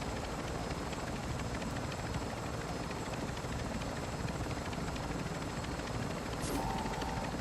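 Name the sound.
helicopter flying in video game DMZ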